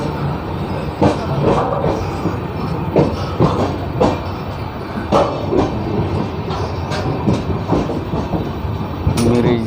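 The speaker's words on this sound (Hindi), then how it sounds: "2 मिनट रुकने के बाद अपनी ट्रेन रवाना हो गई है" Sampoorna Kranti Express, a sleeper-class passenger train on the Patna to New Delhi route, rolling after a departure, loud continuous rumble with rhythmic clickety-clack of wheels over rail joints heard from inside a coach.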